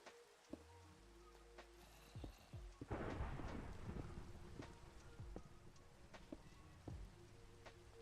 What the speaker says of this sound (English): Check out this thunderstorm.